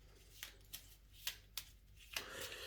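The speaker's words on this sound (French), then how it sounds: "Et vous allez utiliser les cartes de round 1. Vous allez les mélanger." Round 1 cards from a board game are shuffled by hand, several quiet riffling bursts at irregular intervals with soft rustling between, close and faint, no speech.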